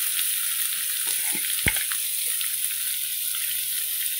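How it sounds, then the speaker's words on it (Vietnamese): Garlic and salted radish fry in a pan with a steady, loud sizzle that stays constant throughout, marked by a few soft clinks and stirring taps and no talking. "Rồi, tỏi nó đã vàng, mình cho củ cải muối vào nha."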